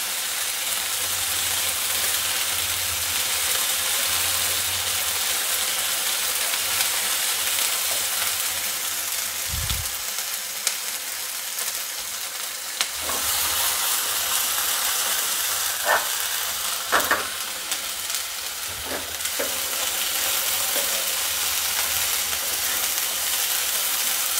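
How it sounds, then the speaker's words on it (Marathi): Mixed chopped vegetables for veg Kolhapuri cook under a lid in a pan, a loud continuous sizzling hiss with a low steam rumble, a dull thump and a few faint clinks, no talking. "मग 2 मिनटं झाकण लावून शिजवते मी याला"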